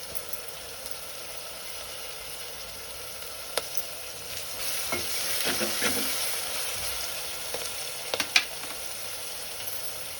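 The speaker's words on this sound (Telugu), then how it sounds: "ఈ గోల్డ్ కలర్ వచ్చే వరకు మనం వేయించుకోవాలండి" Frying in a pan for a tamarind fish curry until golden, with curry leaves added: a soft continuous sizzle and hiss, with a few brief crackling bursts and stirring scrapes toward the middle and end, no talking.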